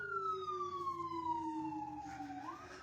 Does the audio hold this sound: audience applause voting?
no